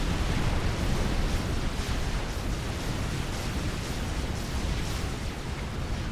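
Percival artillery fire in the Forged Alliance Forever strategy game, a dense continuous rumble of blasts and explosions, loud and unbroken throughout, no voices.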